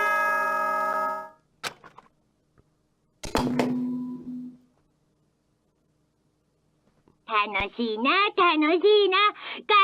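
Danganronpa: Trigger Happy Havoc announcement chime: a bright, sustained bell-like tone opens, followed by a few sharp clicks and a brief buzzing tone, then silence before a voice starts talking.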